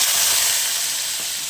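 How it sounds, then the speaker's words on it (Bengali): Ground spice paste with onion, tomato, green chili and ginger hitting hot oil, a loud, dense, steady hiss of frying heard close and alone for a brief moment. "এবার আমি বেটে রাখা মশলাগুলো, পেঁয়াজ, টমেটো, কাঁচা লঙ্কা আর আদা, এটা আমি তেলে ছেড়ে দেব"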